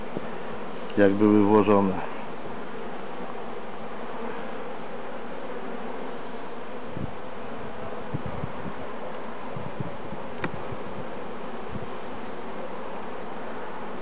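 Macedonian honey bees (Apis mellifera macedonica) hum steadily around an opened hive, a continuous close buzzing that runs the whole time, with a brief spoken phrase near the start.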